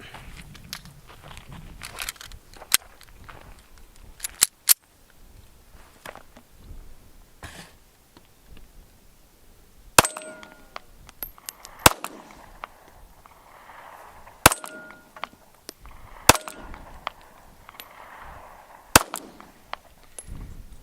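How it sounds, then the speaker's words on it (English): Ruger LCP II pistol fired through a magazine, giving about seven sharp, loud cracks at irregular intervals, with quiet gaps and faint shuffling between the shots. "shoot one more mag, because you've got it"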